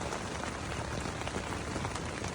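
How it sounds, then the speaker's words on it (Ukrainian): Steady, dense rainfall pours down during a pre-dawn thunderstorm on a river fishing trip, a close, even hiss of drops striking surfaces with no other sounds over it. "Воно гримить все рівно і дощ іде."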